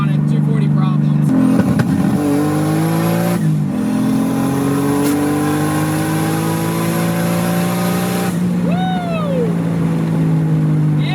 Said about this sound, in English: Rolling anti-lag is dope in this car.